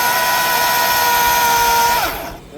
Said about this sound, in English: I'm going to come down, make a cut on this side, it's 2/3 of the way through